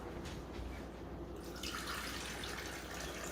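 Berkey filtered water pours steadily into a measuring cup, a continuous close splashing stream that brightens and grows fuller partway through.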